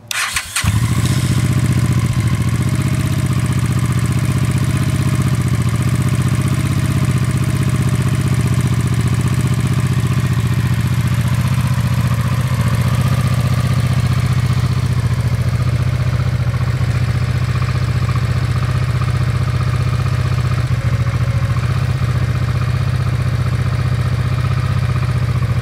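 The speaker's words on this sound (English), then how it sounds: "So let's let it warm up a little bit here." A Honda Shadow VT500 motorcycle engine idles steadily as it warms up, a constant low rumble after a brief start, loud and close with no talk.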